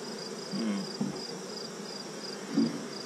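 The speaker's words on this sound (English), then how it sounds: "A lot more bees" Honeybees buzzing around an active hive as winter approaches, a soft, steady hum with a few louder passes of individual bees close by.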